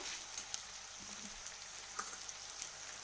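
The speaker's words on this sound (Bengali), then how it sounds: "তো পেঁয়াজটাকে আমি লাল লাল করে ভেজে নেব" Onions fry in a pan with a faint, steady crackling sizzle and a few soft pops and taps, with no speech.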